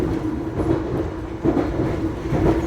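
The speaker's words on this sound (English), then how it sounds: "The other carriage of the train, as this is a 2-carriage train" A two-carriage passenger train on the Isle of Wight rumbles along with a steady low drone and faint rhythmic clatter, heard from inside the carriage, continuous and fairly loud with no talking.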